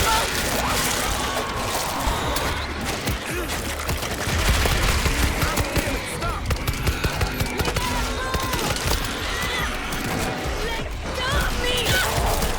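Gunfire in the zombie shooter World War Z, steady bursts and rapid shots running nearly throughout amid chaotic game noise, with voices talking over it.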